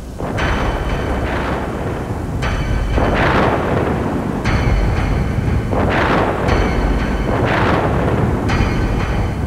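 Cartoon thunderstorm over a flooded village, repeated deep rolling thunder booms and crashes every second or two over a constant roar of wind and rain, loud and close throughout.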